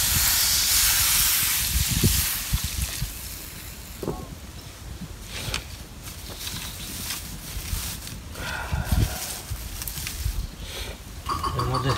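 Katla fish with cauliflower frying in a pan in a Bangladeshi village kitchen, a loud steady hiss of sizzling oil that fades slightly, with occasional knocks and a voice talking over it.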